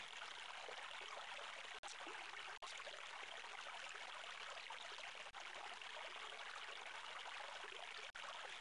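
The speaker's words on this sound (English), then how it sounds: "You refill the water skin with cool, refreshing water from the stream." Flowing stream water in a video game makes a steady, bright trickling rush that runs unbroken for the whole stretch, apart from a few tiny dropouts. It is fairly quiet and plays alone, with no speech.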